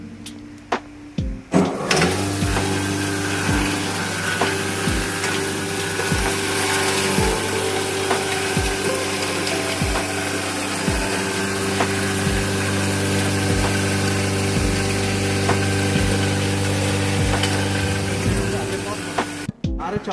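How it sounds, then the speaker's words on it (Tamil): A hammer mill grinds a mix of millet, finger millet and rice rusk, running as a steady loud mechanical drone with a rhythmic knocking all the way through, close up with no talking. "எப்படி அரைக்குதுன்னு பாருங்கள்."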